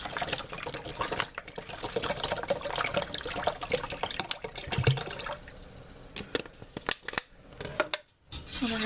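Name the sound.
pouring cold Ozarka spring water from bottle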